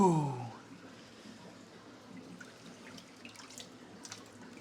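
Water tipped out of a fish tank into a tote, heard as a steady, close splashing and trickling that follows a brief vocal exclamation at the start.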